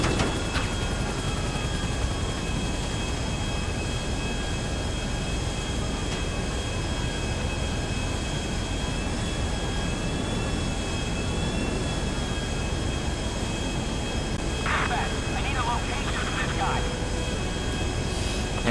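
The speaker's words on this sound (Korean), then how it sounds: "비행기 이륙합니다." A fixed-wing airplane in the video game GTA5 takes off, its engine a steady, continuous roar from start to finish, with a few brief higher chirps near the end.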